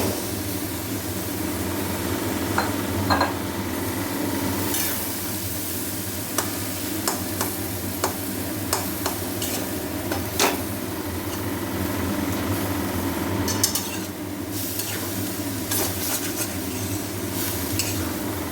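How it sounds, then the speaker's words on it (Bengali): Boiled chickpeas are stirred into frying masala in a kadai, with the mixture sticking to the pan. A continuous close sizzle runs under repeated spatula scrapes and light clinks. "চানাগুলো দেওয়ার পর কিন্তু ভালো করে মশলাটার সাথে চানাগুলোকে ভালো নাড়িয়ে দিতে হবে"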